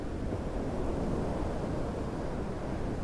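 Storm surge waves from Hurricane Milton pound a seawall at the Turtle Club, a steady roaring wash of surf mixed with gusting wind noise on the microphone, fairly faint and continuous with no voices.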